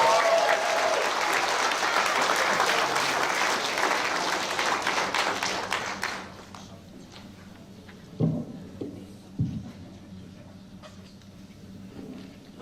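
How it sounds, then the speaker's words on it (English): A school prizegiving audience claps loudly and steadily for about six seconds, then the applause fades out, leaving a quieter hall with a few scattered knocks and movement noises. "Let's give them another round of applause."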